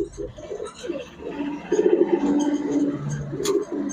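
Big-headed giribaz pigeons, a red-mottled pair among them, coo in overlapping low, throaty rolls, close and moderately loud, with faint background chatter and a sharp tick near the end.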